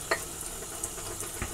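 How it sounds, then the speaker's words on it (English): Shaving cream whipped into lather for a shave, a brief, soft, wet crackling and swishing up close, with a couple of light clicks. "Get some lather going here."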